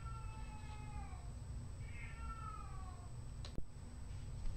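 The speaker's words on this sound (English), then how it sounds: "Oh, there goes my kitty again." A pet cat howls from another room indoors, a few drawn-out wavering meows rising and falling, fairly faint and distant over a quiet background hum, followed by a brief knock.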